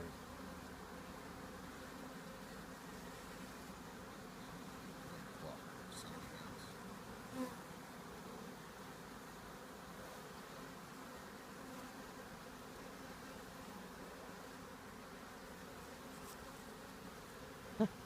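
Honeybees hum in a steady, continuous buzz throughout an open beehive inspection, fairly quiet and even, with an occasional faint click and no talking.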